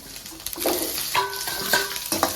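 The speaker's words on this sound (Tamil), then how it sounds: "எல்லாம் போட்டு நல்லா வதக்கிக்கலாம்" Curry leaves, green chillies, garlic and onion sauté in a hot pan, with a steady sizzle broken by a few scraping stirs about every half second, close and moderately loud, no voices.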